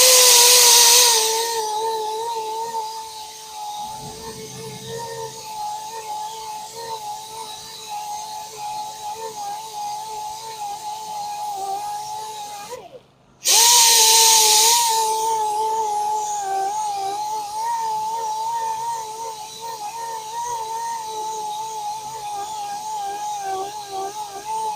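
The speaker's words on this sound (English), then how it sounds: "curb rash is removed with the grinder" A grinder with a conditioning disc hums steadily close by as it removes curb rash from a machined alloy wheel, a sustained whine that stops briefly midway and then resumes, alone without talk.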